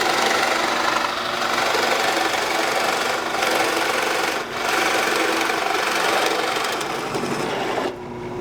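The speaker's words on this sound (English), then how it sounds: "then using a jigsaw to connect them" Continuous loud buzzing saw cutting through wood, steady and close, with a brief dip near the end and no voices.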